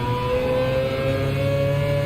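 A car engine in Gran Turismo 7 holds a steady high rev with a sustained mid-pitched tone and faint tonal harmonics, unbroken by talk.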